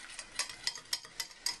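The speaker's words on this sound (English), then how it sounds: "I need to bloody beat this egg." An egg beaten for scampi breading: quick, faint rhythmic taps and clicks of a fork against a bowl, about six sharp strokes close by with no talking.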